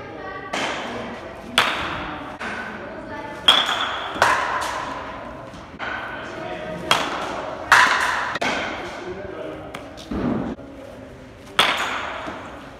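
A 2018 Dirty South USA baseball bat strikes balls in a batting cage, giving about nine sharp, ringing cracks at irregular intervals, heard close, with brief speech between some of the hits.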